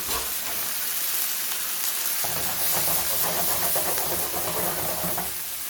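Beans cooking in a hot pan give off a steady hiss and sizzle, close and even, with faint stirring scrapes joining partway through.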